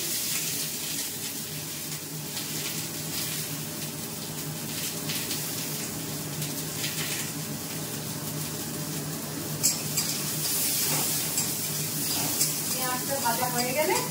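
Onions frying in a pan with bay leaf and garam masala give off a continuous, even sizzle and hiss, steady and close throughout, with faint clinks near the end.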